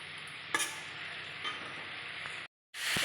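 Prawns being stir-fried in a thick masala in a pan for a Bengali mocha chingri, with a steady sizzle and a couple of scraping stirs. The sizzle breaks off briefly before resuming loudly.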